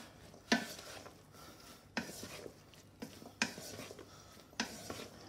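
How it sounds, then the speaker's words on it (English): Kedgeree being stirred together in a pan, with four distinct scraping clatters of the utensil against the pan spaced about a second apart over a quiet background. "So it's going to stir all this together."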